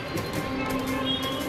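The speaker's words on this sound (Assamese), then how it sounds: "এইখন মেট্ৰ' গৈ আছে, এইখন চাওক, মেট্ৰ' ট্ৰেইন।" A metro train runs past near a main road in Bengaluru, a steady rumble with a faint high wheel whine, heard from close by without talk.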